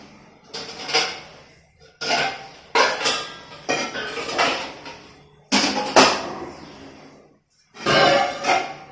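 Metal pots clank and scrape in a series of sharp, close knocks, each followed by a ringing decay, with short pauses between handlings.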